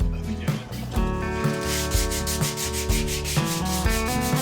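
Painted wood being sanded back by hand after a first coat of warm white milk paint, heard up close as steady rhythmic rubbing strokes that repeat in even back-and-forth passes.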